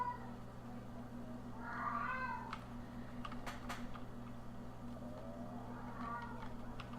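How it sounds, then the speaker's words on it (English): A cat meows twice, a fuller meow around two seconds and a fainter one later, over a steady low hum with scattered keyboard clicks in between. "Cat is meowing."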